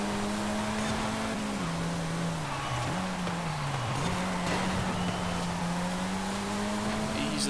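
A Saleen S1 supercar in the Forza Horizon 5 racing game, its engine holding a loud, steady drone with small dips in pitch as it shifts and eases off, continuous throughout.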